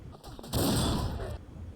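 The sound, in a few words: blunderbuss gunshot in video game Pirates Vikings & Knights II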